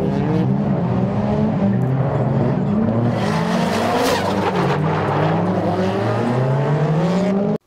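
Cars drifting at the Super GT meeting at Autopolis Circuit, engines roaring and revving continuously with tire squeal and skidding throughout, loud and close for the whole stretch before cutting off abruptly.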